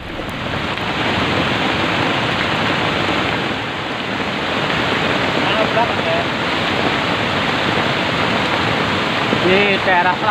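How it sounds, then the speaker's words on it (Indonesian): Floodwater rushing through a river after rain in southern Indonesia, a dense, steady, loud roar of churning water that runs unbroken throughout, with a faint higher tone near the end. "Banjir datang, guys."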